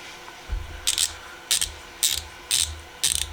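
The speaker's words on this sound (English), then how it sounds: "So got this little button ratchet." A small 1/4-inch button ratchet wrench clicks in five short bursts about half a second apart, crisp and close, each burst a quick run of pawl clicks with a soft thump beneath.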